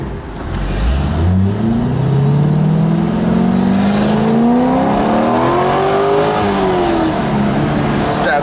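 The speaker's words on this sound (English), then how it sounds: "That's just basic ass exhaust." A Chevrolet Corvette with a manual stick shift pulls hard through the gears, its loud exhaust note rising in pitch, dropping at a shift, then climbing again, close and continuous.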